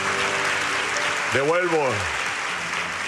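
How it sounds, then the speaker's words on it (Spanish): Applause during an evangelical church service in Santiago: a steady, dense wash of clapping runs throughout while a voice speaks over it. "Dale un aplauso bien fuerte"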